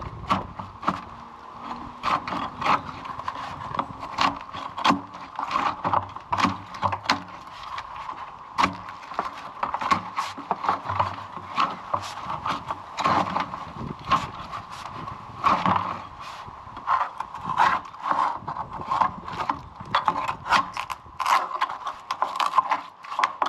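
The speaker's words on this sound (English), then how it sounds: "I'm going to see if I can break off some of this big clump of grease with this handy little scraper" A small hand scraper chips and knocks at a big clump of congealed grease inside a manhole, making repeated irregular scraping clicks and thuds up close with no talk.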